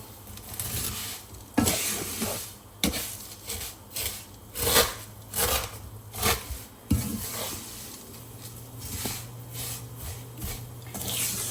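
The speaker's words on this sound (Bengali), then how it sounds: "এখন আমি ঘি দিয়ে ভাজতেছি" Vermicelli (semai) fries in ghee in a pan with a continuous soft sizzle, broken by repeated scraping stirs of a utensil against the pan, close up and without speech.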